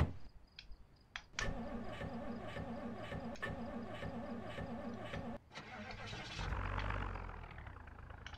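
A car engine cranks and catches in the video game Project Zomboid, with clicks and a whirring starter followed by a steady idle that swells as the engine revs. The sound is fairly quiet and has no talk over it.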